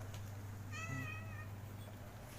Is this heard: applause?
no